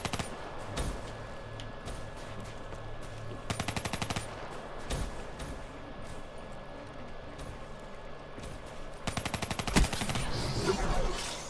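CUDA gunfire in Call of Duty Black Ops III multiplayer, with two rapid automatic bursts about five seconds apart over a steady game soundscape, moderately close.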